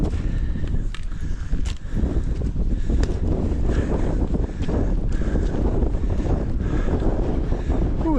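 Strong, continuous wind buffeting the microphone high on Bray Head by the cross, a loud, steady roar with gusty surges and no talk.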